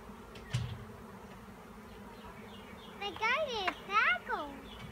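A dense buzz of a honeybee swarm hums steadily throughout, with children's voices chattering and squealing over it toward the end.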